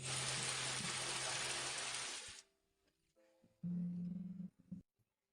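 Steady hiss of sudden rain falling outdoors for about two seconds, loud and broadband, then cutting off into quieter sounds.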